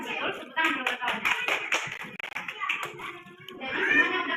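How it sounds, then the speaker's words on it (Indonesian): Schoolchildren in a classroom burst into rapid group clapping for several seconds, with kids' voices chattering throughout. "Tepuk tangan dulu kawan."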